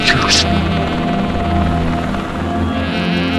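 Helicopters drone loudly overhead, a dense, continuous rotor roar filling the whole stretch with a brief rising whine at the start.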